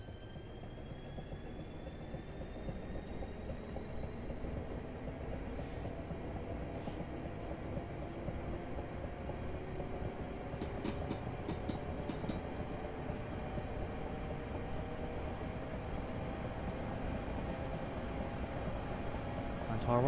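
A Class 465 electric train departs in Train Simulator 2021 on a Southeastern London Victoria to Orpington run, its motors whining and rising steadily in pitch over a continuous rumble of wheels on track.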